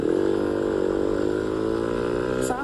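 A motorcycle engine runs loudly and close up, its steady buzzing note climbing slightly in pitch, then dipping briefly near the end.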